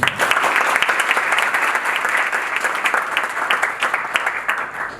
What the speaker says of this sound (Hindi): बहुत अच्छा क्वेश्चन किया, उनके लिए ताली बजाओ।